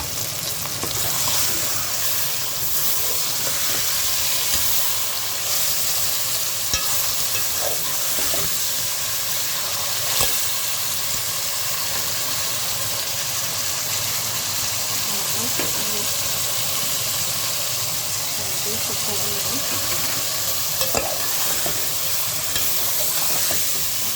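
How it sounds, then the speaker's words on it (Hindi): Chicken frying with tomatoes in a pan for a baingan chicken dish, a continuous loud sizzle and hiss with occasional stirring knocks throughout. "टमाटरों के साथ चिकन को अच्छी तरह फ्राई।"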